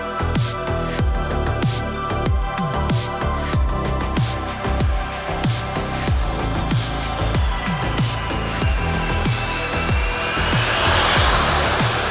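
Aircraft engine sound from the sound board of a 1/144 Revell C-17A Globemaster III scale model, a loud steady roar with repeating low pulses that rises into a sweeping whine near the end, no talk.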